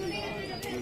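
A pigeon coos briefly inside a cage at a busy pigeon market, a soft, close call heard under talk and market chatter.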